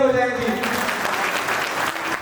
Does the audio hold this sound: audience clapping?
yes